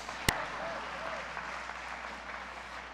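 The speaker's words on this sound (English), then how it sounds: "could we have applause for Reese's Peanut Butter Cups?" A church congregation claps together in a steady, moderate wash of applause, opening with one sharp, close bang before the even clapping carries on evenly to the end.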